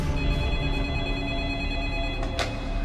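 An old-style telephone bell rings continuously for about three seconds, a loud steady trill with no talking over it.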